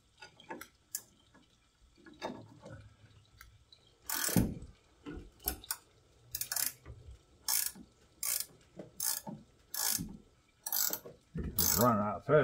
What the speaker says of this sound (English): this 17mm extra long, it's got ratchet on one end and boxing on the other